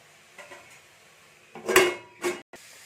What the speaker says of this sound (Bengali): দিয়ে আরেকবার আমি ঢাকা দিয়ে দেবো